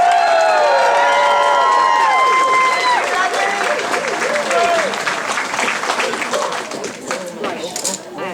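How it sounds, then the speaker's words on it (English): A convention audience at a closing ceremony breaks into sustained, loud applause with cheering, thinning into scattered clapping by the end. "Big round of applause for you."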